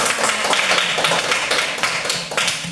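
A classroom group of students claps their hands together, a dense run of sharp, close, fairly loud claps that keeps up steadily the whole way through.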